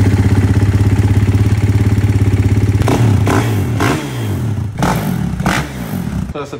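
A 2016 KTM 450 SXF dirt bike engine close up, a steady pulsing idle that breaks into several loud revs and throttle blips toward the end, with no voices.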